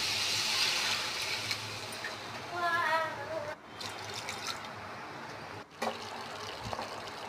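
Water runs into a cooking pan for egg curry already seasoned with salt, chili and ginger-garlic paste, making a soft steady pour with a rising filling tone in the middle, followed by quieter trickling and light clatter.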